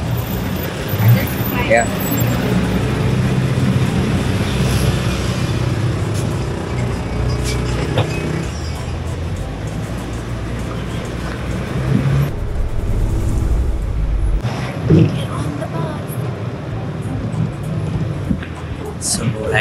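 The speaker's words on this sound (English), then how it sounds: "Hey, bus came." City bus pulling up to a stop in Bandar Seri Begawan, Brunei, a low rumbling engine amid steady street traffic noise, with brief hiss and clatter as it arrives and people talking nearby.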